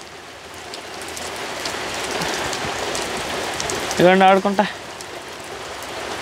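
Steady rain falls on surfaces in a village setting, a constant soft patter throughout, with brief talk and a short harmonic voice-like call partway through.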